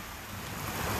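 Ocean surf washes in as a continuous broadband rush of breaking waves, steady and moderately loud with some wind noise, and no voices.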